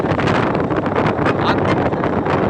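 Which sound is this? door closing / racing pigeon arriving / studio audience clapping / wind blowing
wind blowing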